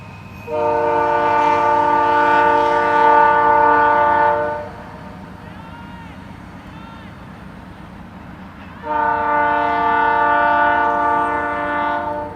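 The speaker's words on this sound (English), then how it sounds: "But to have a nice loud train coming through." A loud train passes near a high school girls' soccer field, blasting two long, harmonically rich horn blasts separated by a quieter stretch of rumbling rail noise.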